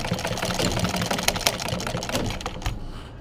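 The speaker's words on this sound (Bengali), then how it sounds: "এই জায়গাটা আমি একটু ডাবল সেলাই দিয়ে নিব" Sewing machine running steadily while double-stitching the hem of a ladies' pant leg, a dense rattling whir that continues throughout and tapers off near the end.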